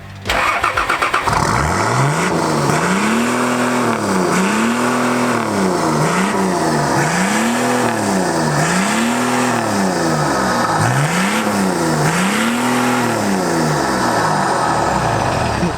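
A turbocharged black Nissan Patrol GQ with a TD42 diesel fires up, then revs in a string of about six even surges. Each surge rises and falls in pitch, and the engine sounds loud and close-up.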